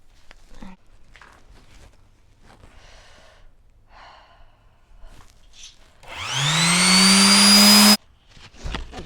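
A metal toolbox being sanded with 120 grit sandpaper, a loud, steady power-sander whir that starts abruptly partway through and stops suddenly, following quieter rustling and handling noises.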